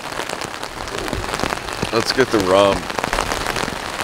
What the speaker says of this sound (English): it probably isn't raining as hard as it sounds